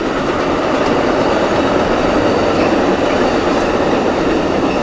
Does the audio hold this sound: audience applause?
no